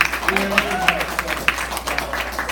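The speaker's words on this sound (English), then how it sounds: "Give a round of applause." Audience applause at a heart rate training and HIIT fitness seminar, a brief round of clapping with crowd noise and a few voices talking and calling out over it.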